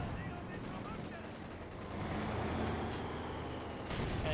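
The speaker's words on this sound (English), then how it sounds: "The mortar half track is just hard countering the 120mm mortar really efficiently." Rapid mortar and gunfire crackle from a Company of Heroes 2 battle with a mortar half-track, a dense continuous barrage of distant thuds and pops.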